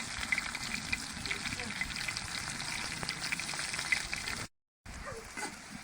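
Slices of pointed gourd (potol) fry in a pan with a soft, continuous sizzle and light crackle, quiet and even, broken by a brief silent gap near the end.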